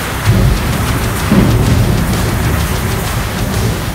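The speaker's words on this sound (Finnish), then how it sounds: "Niin kuin Miika Tenonen hyppää lattialle pelkäämään ukkosta." A thunderstorm pours heavy, steady rain, and deep thunder rumbles swell briefly within the constant loud hiss.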